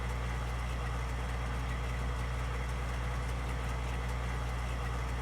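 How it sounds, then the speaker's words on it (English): Tractor engine in Farming Simulator 19, a constant low diesel drone with a steady hum, unchanging in level and no clear sign of approach. "And I see the tractor coming in the distance"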